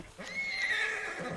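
A horse in the DayZ video game whinnies once, a clear rising and falling neigh lasting about a second, fairly close and alone.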